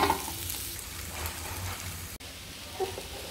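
Mashed potato worked together with ginger garlic paste in a pan for a stuffed paratha filling, a soft, steady frying hiss with faint stirring and scraping, close and moderately quiet, no voices.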